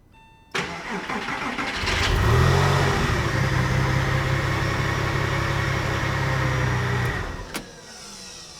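A car engine cranks and catches, then settles into a steady, loud idle with a loud secondary air pump for several seconds before shutting off.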